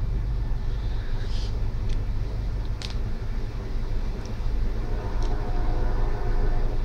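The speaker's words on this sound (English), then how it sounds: "Fuck off, train." A train rumbles past outdoors, a steady loud low roar with a few faint high squeals and clanks across several seconds, no voices.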